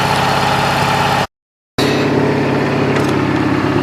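A John Deere 20-G lawn tractor engine idles steadily and loudly close by, its even mechanical drone broken once by a brief gap of silence before carrying on.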